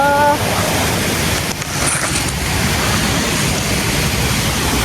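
A hill stream carrying stones and logs rushes steadily with broadband noise, loud and close and unbroken for the whole stretch, with only a brief dip partway through.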